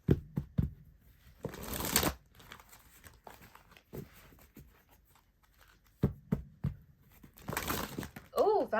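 A deck of tarot cards is shuffled quickly in two short, crisp riffling bursts, with quieter handling rustles and taps scattered between them, close and fairly soft.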